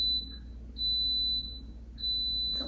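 Kitchen rice cooker signals that the rice is done with three long, steady high-pitched beeps evenly spaced, clear and close, followed by a faint clatter.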